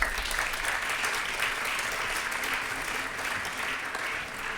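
Audience applauding a one-minute project pitch at an engineering awards ceremony, steady dense clapping from a sizeable crowd held at an even level throughout.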